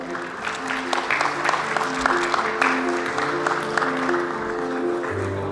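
Applause from an audience at a school sports awards ceremony after a national sports festival, steady dense clapping through the whole stretch with voices murmuring underneath.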